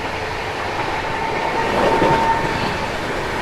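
AC express train running at speed on Indian rails near Sonipat Junction while crossing the Unchahar Express, a steady loud rumble with clickety-clack wheel noise and a brief high squeal partway through.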